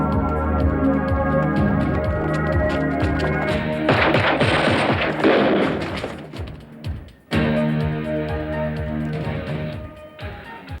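Rapid automatic gunfire rattles through a scene in the action film Laser Mission, loud and sustained over a dense soundtrack, with a short break about two-thirds of the way through before the shooting resumes.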